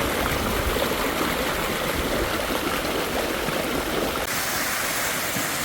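Hot spring water rushing through a canyon at Grutas de Tolantongo in Hidalgo, Mexico: a steady, loud, close torrent with a constant hissing roar throughout and no voices.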